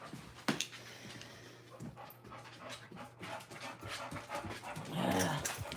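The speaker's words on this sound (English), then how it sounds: "I see you, baby doggy." A dog pants steadily up close, with soft whimpers and a few small whines scattered through, indoors and without talk.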